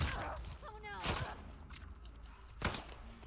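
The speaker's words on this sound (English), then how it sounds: "Oh my god, stop shooting me!" Gunfire aimed at the player in The Last of Us Part II, a few sharp shots scattered among game sounds while a person talks over them.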